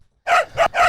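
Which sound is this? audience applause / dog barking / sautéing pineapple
dog barking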